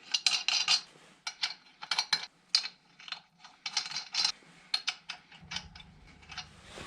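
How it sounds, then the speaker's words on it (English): Five metal lug nuts clink and rattle as they are threaded onto a car wheel spacer, a close series of sharp irregular taps and jingles, with a low mechanical hum rising near the end. "Now we can go ahead and put on our 5 lug nuts that came with the wheel spacer."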